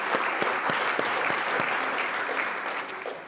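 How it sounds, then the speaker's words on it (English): An award presentation audience gives a sustained, fairly quiet round of applause, steady clapping with a few sharper individual claps near the start that thins slightly toward the end. "I'd like to give you all a hand of applause as well."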